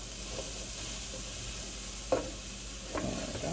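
An onion and garlic mixture, seasoned with salt and pepper, sizzles in a pan with a constant frying hiss, broken by two or three sharp stirring scrapes near the end.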